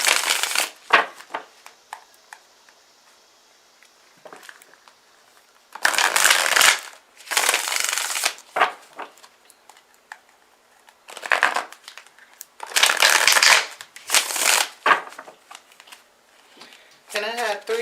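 Tarot cards riffled and shuffled for a monthly reading in several loud, close bursts of papery flutter, separated by quiet pauses with faint handling sounds.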